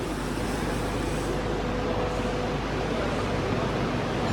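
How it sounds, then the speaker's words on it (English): A water drop hammer mill crusher runs in a charcoal-making machine factory, producing a continuous, loud, broadband mechanical roar that stays steady throughout with no talk. "Water drop hammer mill crusher."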